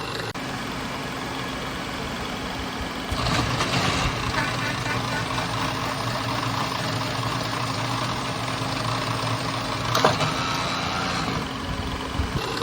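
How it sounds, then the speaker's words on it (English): A Brown & Sharpe horizontal milling machine, an old American-made mill, slotting screw heads as a secondary operation, giving a steady broadband machining roar with a constant motor hum that swells after a few seconds and continues evenly. "We do this with a Brown & Sharp horizontal mill."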